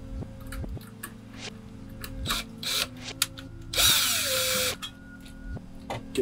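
A handheld power drill runs in bursts over a workbench while computer thermal paste is being swapped for Nutella, with a loud sustained whine near the middle among shorter spurts and ticks.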